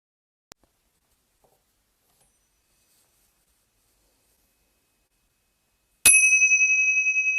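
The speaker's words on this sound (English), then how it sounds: "So we will start and end with a bell" A single meditation bell is struck once and rings out clearly, its bright ringing tone lingering and slowly decaying after several seconds of near silence.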